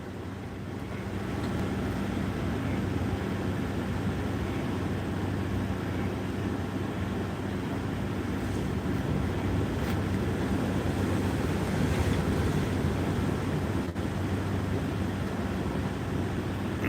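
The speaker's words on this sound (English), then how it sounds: "I have never heard wind like this in Florida." Hurricane wind in Florida roars as a continuous dense rushing noise, loud and unbroken, with gusts swelling slightly but no pauses.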